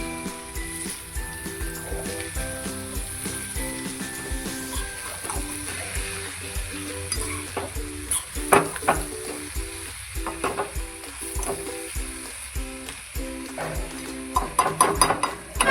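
Coriander stirred into cabbage sabzi frying in a pan, a steady sizzle under repeated scraping and clattering strokes of a spatula, heard close with no talk.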